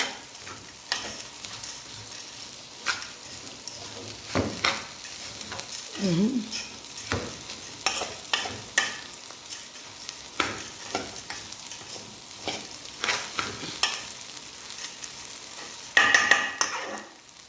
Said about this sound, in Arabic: نشوحه كده اهو نشرب السمنة